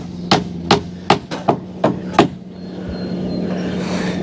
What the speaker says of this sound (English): we're just hand nailing them, toe nailing them